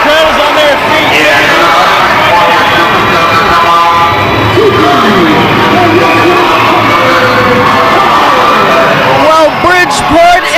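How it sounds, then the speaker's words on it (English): A live wrestling crowd in Bridgeport yells, whoops and cheers loudly and continuously, a dense roar of shouting voices packed close together. "The crowd is on their feet."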